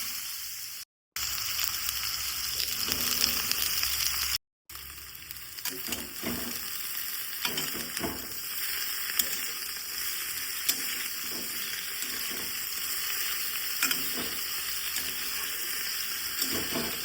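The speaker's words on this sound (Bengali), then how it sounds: "তো দেখো কড়াই আলুগুলো ছাড়ছি।" Potatoes drop into a hot wok over a low gas flame and fry with a continuous close sizzle, broken by two brief silences near the start, with light scraping and stirring noises after.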